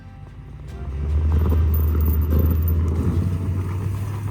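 Pickup truck with badly worn winter tires hauling a logging load on a snowy Alberta homestead, a loud, deep, steady engine rumble that swells after the first second and stays strong throughout.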